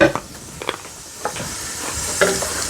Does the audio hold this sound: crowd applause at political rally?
no